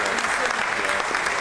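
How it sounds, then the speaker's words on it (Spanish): Dense, steady applause fills a short burst from an audience honouring philosopher Dr. Bernardo Toro at a working lunch in Córdoba, with no pauses. "despedimos y agradecemos con un fuerte aplauso al filósofo, el doctor Bernardo Toro."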